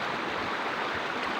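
A clean mountain river runs over rocks close by, a steady, broadband rushing and gurgling of flowing water with no other sounds.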